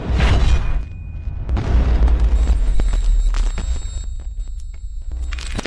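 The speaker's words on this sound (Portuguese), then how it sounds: "Taca a granada aqui." Grenade blasts in the colony game RimWorld, a deep booming explosion followed by further rumbling bursts and a trailing crackle, loud and close with no voices.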